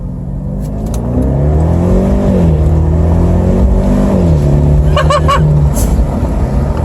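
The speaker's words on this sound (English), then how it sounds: "We are gonna open the windows so we can listen to that performance muffler we get in the back." A BMW 650 with a performance muffler revs hard from inside the cabin with the windows open, the engine note climbing through gears with shifts between pulls, loud and close.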